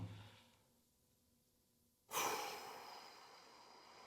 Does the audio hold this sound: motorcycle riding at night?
no